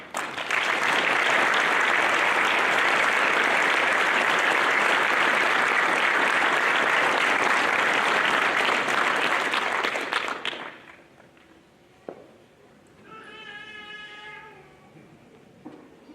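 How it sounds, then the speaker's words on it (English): Graduation audience at a law enforcement training center gives the standing class a long, loud, dense round of clapping that stops abruptly after about ten seconds, followed by quiet room noise and a short tonal sound. "Let's give them all a round of applause for a job well done."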